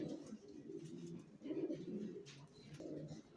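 Young racer pigeons cooing softly in a close, continuous low murmur with a few brief swells, no talk over it.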